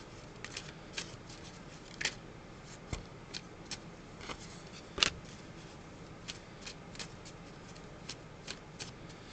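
Tarot cards from a Hermes deck are handled and shuffled at close range, giving a steady run of soft riffling flutters and sharper card snaps, with a louder slap near the middle, and no talking.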